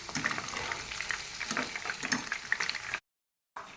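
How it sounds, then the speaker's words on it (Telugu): Chicken pakodi frying in oil over a medium flame, a steady close crackling sizzle with bubbling pops that runs for about three seconds, breaks off into silence, then resumes. "మీడియం ఫ్లేమ్లో చక్కగా గోల్డెన్ బ్రౌన్ కలర్ వచ్చే వరకు వేయించుకోండి"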